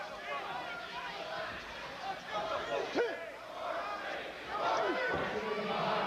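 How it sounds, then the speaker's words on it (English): A crowd at a 1996 wrestling match roars and chatters throughout, growing louder near the end as the two competitors go down, with shouts rising over the steady din. "the crowd comes alive for Horenstein as they both go down"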